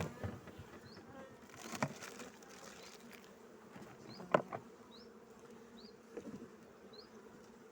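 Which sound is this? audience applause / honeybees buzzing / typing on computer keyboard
honeybees buzzing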